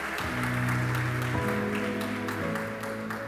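A church congregation applauds during an evening worship service, the clapping a steady broadband wash blended with sustained keyboard or organ chords that shift pitch partway through.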